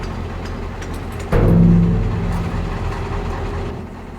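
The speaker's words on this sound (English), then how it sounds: "Shut the tractor off." Farm tractor engine in Farming Simulator 22 starts with a sudden rise into a steady low idling rumble, a faint hum before it and the drone holding evenly afterward, with no talking.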